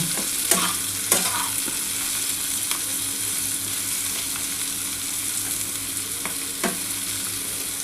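Teasel gourd fries with poppy seeds and chopped green chilli in a pan, a constant sizzle broken by a few sharp scraping stirs of a spatula, with no voices.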